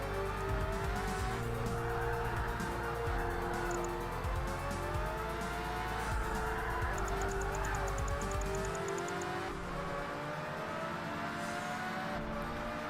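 A race car in Project Gotham Racing brakes through a corner, the engine droning steadily as the tires squeal and skid in rising and falling whines, with game music running underneath.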